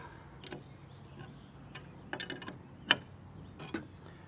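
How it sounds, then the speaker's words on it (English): Bolts being tightened by hand while installing a SteadyFast stabilizer, sparse ratcheting clicks and metallic ticks at close range over a faint background. "now move over and tighten down the bolts"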